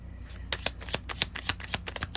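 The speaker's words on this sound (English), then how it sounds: "Let me shuffle right quick" A tarot card deck is riffled and shuffled by hand, giving a quick run of crisp papery flicks and snaps close by, with no talk.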